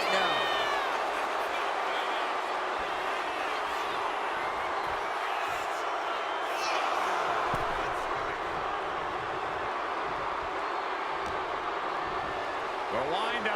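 A wrestling crowd in WWE 2K25 keeps up a steady, dense roar throughout, a constant wash of arena noise with voices talking over it.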